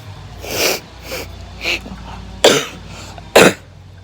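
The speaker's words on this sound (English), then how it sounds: "Except for me coughing" One person coughs several times outdoors, a series of five harsh, breathy bursts of varying strength, the last two loudest, with quiet background in between.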